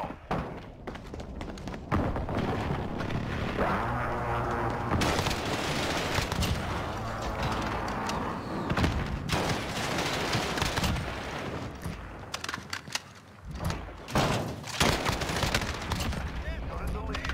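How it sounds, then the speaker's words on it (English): Precision airstrike explosions in a Call of Duty match, heavy booming thuds mixed with dense gunfire and rattling shots, loud and chaotic throughout, with a voice speaking at times. "Enemy precision airstrike inbound."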